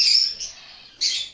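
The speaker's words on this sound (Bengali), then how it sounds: "এই দেখেন এখানে কিছু বাজিগর আছে" Budgerigars in a bird house give two quick bursts of shrill, high chirping separated by a brief lull, near and fairly loud.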